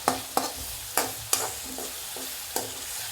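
Ground masala paste frying for a coconut milk fish curry, a close sizzle broken by several sharp spoon knocks against the pan at irregular intervals.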